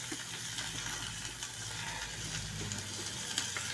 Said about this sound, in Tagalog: Ginisa ko lang to mga koys.